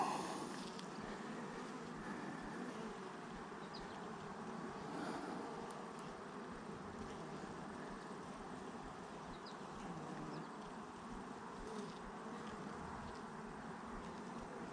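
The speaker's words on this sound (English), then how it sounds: "It is full of bees and heavy." Dense, steady buzzing of honeybees fills the whole stretch, a close swarm on a full hive frame humming continuously with no voices.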